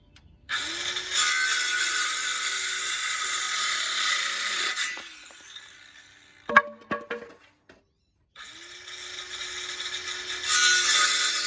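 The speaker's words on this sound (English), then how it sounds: "Knock these out with a trick saw" A Ryobi circular saw cuts through pallet wood in two long passes, the motor whining up, the blade biting loudly, then spinning down, with clattering handling of boards between cuts.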